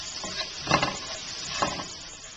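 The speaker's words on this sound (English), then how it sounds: "So I'm just going to stir fry this around until the vegetables are translucent" Vegetables and ham stir frying in a pan, a soft steady sizzle with a few scraping stirs of the utensil, close and alone.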